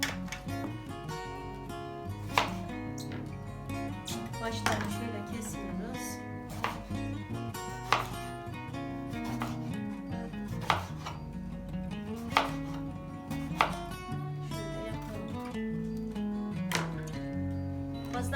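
A knife slices eggplant for a regional Antep-style eggplant kebab, striking a cutting board in a regular series of close, crisp chops with faint rubbing between cuts.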